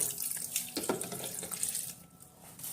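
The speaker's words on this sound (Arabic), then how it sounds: "وهنزل بالميه" Water pours steadily into a mix of orange juice, grated carrot and sugar, a close splashing stream that runs without pause for a few seconds.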